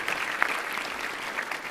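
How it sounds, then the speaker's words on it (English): Brief, steady clapping from an audience at a Sikh professional awards ceremony, a short burst of applause heard without speech. "We can give him a round of applause for sure."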